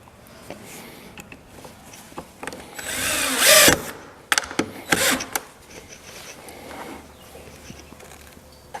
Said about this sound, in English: Here I'm attaching the frame with pocket screws.